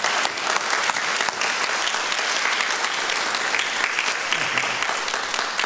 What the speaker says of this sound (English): another round of applause for the 6 finalists.